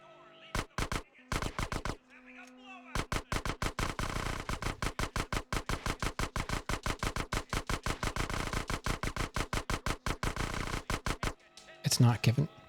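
Sustained rapid gunfire in a Grand Theft Auto: San Andreas shooting challenge on PS2, a few opening shots then a long steady stream of evenly spaced loud shots from several guns firing together, ending in a heavier burst.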